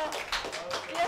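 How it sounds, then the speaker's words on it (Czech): Hand clapping by one or a few people at a casual indoor gathering, several quick claps in an uneven run, mixed with background chatter. "Teď dám potlesk"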